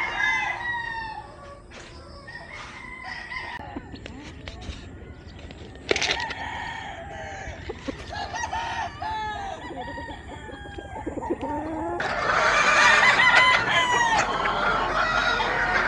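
Roosters crow repeatedly amid clucking chickens at a farm housing pullets primed for breeding season, several birds calling over one another at mid distance, the crowing growing louder and denser toward the end.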